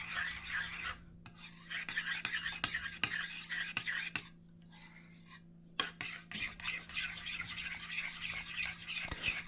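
Marinade with a spoonful of Tabasco-style hot sauce being mixed in a bowl, giving a steady wet rasping and scraping that runs almost throughout, with two short pauses and a hum underneath.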